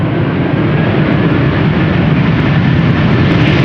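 Airbus A330-300 airliner rolling out after landing at Amsterdam Schiphol Airport, a loud, steady broadband roar of engines with thrust reversers, continuous throughout with no speech.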